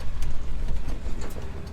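A 1970 Ford F100 pickup with a three-on-the-tree column shifter out on a test drive in second gear, its engine a continuous close rumble with slight surges and road noise.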